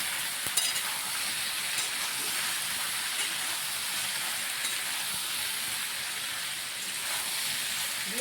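Taro root frying with salt and turmeric gives a steady, dense sizzle that stays level throughout, close by, with a faint clink near the start.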